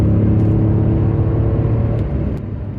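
An Italian Alfa Romeo car engine running close by, a loud, steady low rumble and whir with a slight dip near the end, no voices over it.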